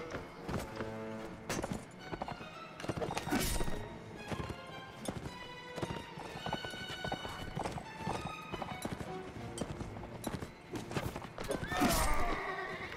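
Horse hooves clip-clop and gallop over a medieval battlefield in Mount & Blade: Warband, dense and steady under clashing thuds, shouts and scattered combat noise, with a rider talking briefly.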